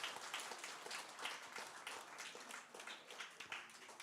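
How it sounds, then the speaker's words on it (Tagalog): Church congregation in Dubai clapping loudly together during a worship service, a dense, steady wash of many hands with small surges, fairly quiet overall and without speech. "pumalakpak nga ng malakas"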